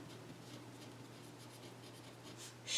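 Pen scratching out a math solution, a quiet continuous scribbling at close range over a low steady background hum.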